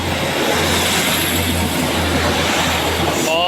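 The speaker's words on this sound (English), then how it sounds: "That's our Oban train coming in now, so I'll let it rattle by" The train to Oban rumbling and rattling past close by, a loud, continuous roar of wheels and engine that holds steady for several seconds before starting to fade at the end.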